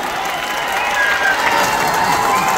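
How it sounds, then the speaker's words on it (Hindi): Audience at a Hindi poetry gathering claps and cheers, a loud, continuous crowd roar of applause that swells slightly and stays dense throughout. "इसलिए बहुत तालियां बढ़िया बजाइए"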